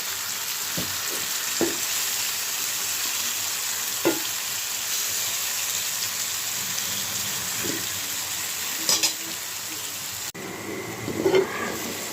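Tomatoes fry in a pan for a hilsa fish curry, giving a continuous hiss of sizzling with a few soft spatula scrapes and taps, ending with a brief louder clatter.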